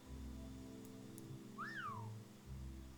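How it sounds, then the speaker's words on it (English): A single rising-and-falling whistle rings out over a low steady background hum in the Morrowind video game, faint and brief, with no speech. "Don't whistle at me."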